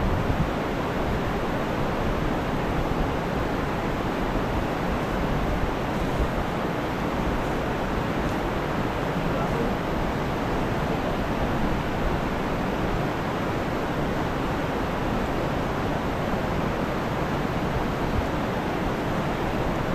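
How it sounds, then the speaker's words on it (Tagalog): Strong river current rushing under a bridge where people fish for giant tilapia: a steady, loud broadband roar of flowing water with no breaks, alone and without talk. "Bumabalik-balik lang yan kasi maagos."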